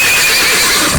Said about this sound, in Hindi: घोड़ा हिनहिना के आगे नहीं बढ़ रहा।